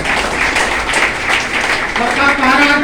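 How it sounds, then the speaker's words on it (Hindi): Audience applause at a meeting in a hotel, a loud burst of many hands clapping close by, with someone speaking over it toward the end. "ताली बजाइए उनके लिए।"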